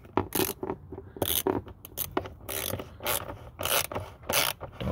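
A ratchet wrench tightens the coil pack bolts on a 2002 Chevrolet Trailblazer engine, short rasping clicks coming in quick close bursts with brief pauses between strokes.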